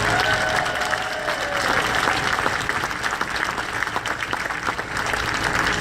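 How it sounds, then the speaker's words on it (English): Passengers at the farewell party of the TCM Classic Cruise 2016 give a loud, continuous round of applause, many hands clapping together in a thick, even roar. "please everybody, a big round of applause"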